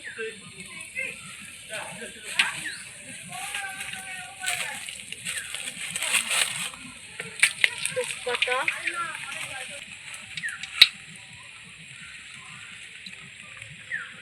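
Green chilies sizzle and crackle in hot oil for a Bengali ghonto, a steady frying hiss with irregular pops and clicks that swell mid-way and settle near the end, while a person talks over it.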